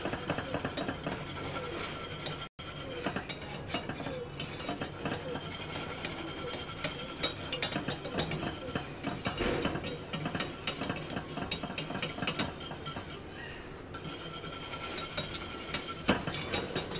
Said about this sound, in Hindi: अब इसको अच्छी तरह विस्क कर लेंगे।